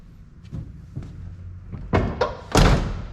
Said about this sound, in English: At least the door close is nice.